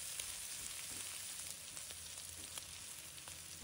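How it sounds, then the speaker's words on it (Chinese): Pork belly sizzling and stir-frying in a wok with scallion, garlic, shiitake mushrooms and squid, a steady dense crackle of hot oil with faint scrapes of stirring running throughout. "我们再加入葱蒜爆香， 把它们炒出香味，再加入香菇鱿鱼"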